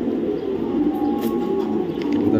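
Red checker racing cock pigeon of Python bloodline, raced in BRPL 2023, giving a low soft coo, close and quiet against faint background noise.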